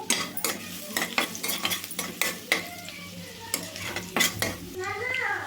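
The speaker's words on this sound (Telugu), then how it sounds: "ఆయిల్ అయితే హీట్ అయిందండి సన్నగా తరిగి పెట్టుకుని ఎల్లిపాయ ముక్కలు ఎల్లిపాయ ముక్కలు లైట్గా వేగాలండి" Finely chopped garlic pieces fry lightly in heated oil for egg semiya upma. A soft sizzle runs under frequent sharp metal scrapes and clinks of a utensil stirring in the pan.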